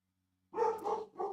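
A dog barks twice in close succession, a sharp mid-pitched bow-wow followed by a shorter yip, fairly near after brief silence.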